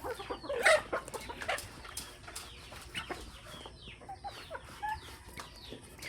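Backyard hens clucking in short, scattered calls at moderate distance, with a few higher bird chirps mixed in and no talking.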